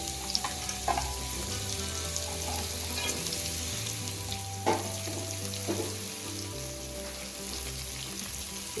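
Potatoes with black cumin fry in hot oil, a close, steady crackling sizzle with occasional stirring clinks and scrapes, continuing evenly with a low hum beneath and no voices.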